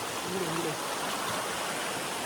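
A waterfall in a village gives a steady, even broadband rush of falling water, constant and fairly loud throughout, with a brief faint voice low under it near the start.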